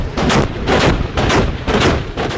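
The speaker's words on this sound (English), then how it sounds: "Self-propelled artillery." Self-propelled artillery fires several loud booming blasts in a steady rhythm, about five heavy reports roughly half a second apart, each with a rough, rumbling tail.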